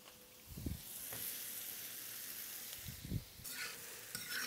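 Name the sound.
onions and mushrooms frying in butter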